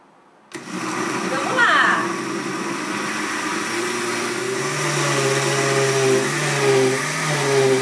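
Starting abruptly, a lidded blender whirs through carrot cupcake batter, a loud steady motor drone that dips and surges in pitch as the mix thickens.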